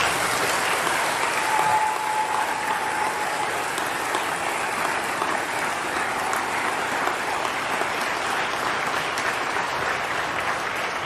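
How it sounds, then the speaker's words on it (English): Sustained, even applause from a large crowd at a school graduation ceremony honours the volunteers, a steady wash of clapping held for about ten seconds without a break. "join me in a round of applause for all of our volunteers"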